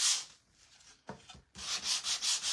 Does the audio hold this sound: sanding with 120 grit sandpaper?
yes